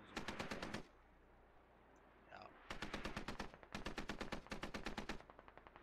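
Machine gun fire in the Squad video game comes as three long bursts of rapid, evenly spaced shots. The bursts are separated by a short lull, sound fairly close and loud, and play without any talk over them.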